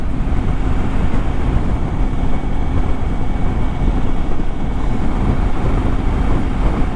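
A motorcycle cruises at speed on a highway between Michoacán and Jalisco, a loud, steady engine roar mixed with heavy wind rush, with no talk.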